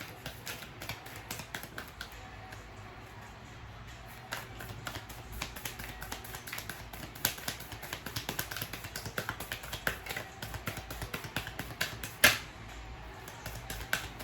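Tarot cards are shuffled during a reading, giving a quiet, continuous patter of soft riffling taps that stays close and steady for the whole stretch, with no talking and a sharper snap near the end.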